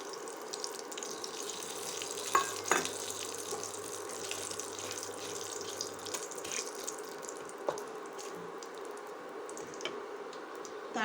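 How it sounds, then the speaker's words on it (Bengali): Whole garam masala and two bay leaves sizzle in hot oil at lowered heat, a steady soft crackle with scattered pops and ticks, fairly quiet and unaccompanied by talk. "এতে আমি দিয়ে দিচ্ছি কিছু গোটা গরম মশলা আর দুটো তেজপাতাও দিয়ে দিচ্ছি।"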